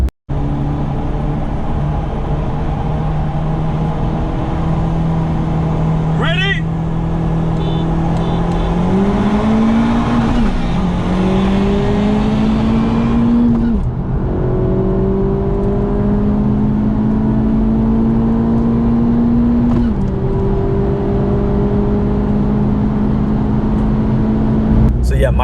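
A Honda Civic Type R with a Phearable Stage 2 tune accelerating hard in a race, loud engine droning and climbing steadily in pitch through shifts over a long run, with steady road and wind roar underneath.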